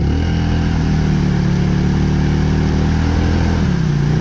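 A Polaris 570 utility vehicle's engine revs steadily at a sustained mid pitch while being driven in mud, its tone holding loud and even before dipping briefly near the end.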